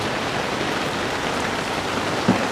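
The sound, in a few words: heavy rain downpour in New York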